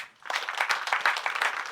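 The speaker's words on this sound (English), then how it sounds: "Clap for them." An audience claps for two young sisters who set up a school library, a brief burst of scattered hands starting after a short pause and continuing at moderate loudness.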